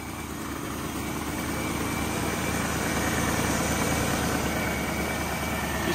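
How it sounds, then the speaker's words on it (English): A 1973 Chevrolet Nova four-door, parked for 32 years, runs at a steady fast idle on choke, a continuous low engine drone close by with no talking. "Look at that, fast idle choke."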